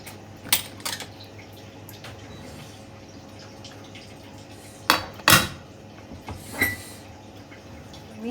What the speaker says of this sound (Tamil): ஒரே ஒரு ஹாஃப் டம்ளர் தண்ணி ஊற்றி நம்ம வந்து குக்கரை வந்து மூடி வைக்க போகிறோம்